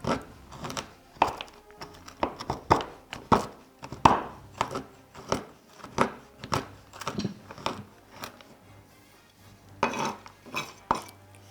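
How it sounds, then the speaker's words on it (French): A knife chops on a wooden cutting board while pecans and chocolate are prepared, giving sharp, close knocks in an irregular rhythm with brief pauses between bursts. "j'aime beaucoup le bruit du couteau sur la planche"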